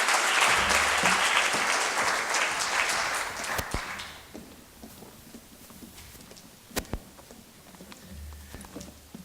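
Audience applause for a youth sport fishing charitable trust at a community awards ceremony in Nelson Tasman, steady and full for about four seconds, then tapering to scattered claps and a quieter room with a few sharp knocks.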